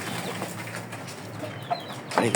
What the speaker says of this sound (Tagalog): Ito yung aking mga manok na